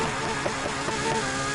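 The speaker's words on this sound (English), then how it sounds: "I want to race hard, it's gonna be the FXX" A Ferrari FXX K racing in Need for Speed Heat, its engine a loud, steady high-pitched drone with a strong harmonic whine, heard alone.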